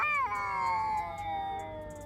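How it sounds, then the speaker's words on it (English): Cats yowling at each other in a confrontation, a long drawn-out wavering cry that slides downward, fairly close and clear against light background noise. "Cats sound so dumb when they're like confronting another cat."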